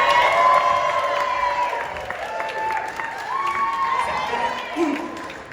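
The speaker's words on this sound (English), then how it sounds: "Please give it up for Andy Yang." A crowd at a Realme Australia launch party claps, cheers and whoops loudly for a welcome onstage, a dense sustained roar with shouts and whistles over it.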